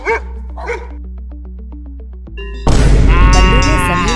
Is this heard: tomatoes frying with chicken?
no